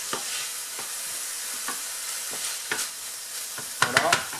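Chicken and spices sizzle in a hot pan while a utensil scrapes and stirs them in repeated strokes. The strokes grow louder and quicker near the end, with no talking.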